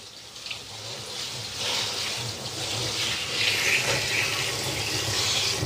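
Asparagus is rinsed under running tap water, a continuous close splashing stream that swells slightly as the spears move under the flow, with no talking.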